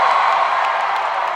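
A big concert crowd in Las Vegas cheers and whoops in a steady, loud roar with no break, heard for a brief moment alone.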